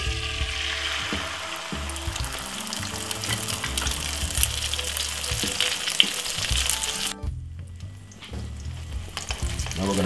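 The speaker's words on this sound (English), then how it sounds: "So now we're gonna fry the egg." An egg frying on a stovetop crackles and spits steadily at close range with some clinks and stirring noise, briefly dropping to a quieter lull before the sizzle returns, with no one speaking.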